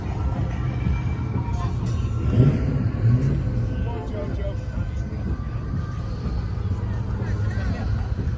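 A Mercury Cyclone rumbles past at a car cruise with a low, steady engine drone and a brief swell as it revs, over constant crowd and traffic noise.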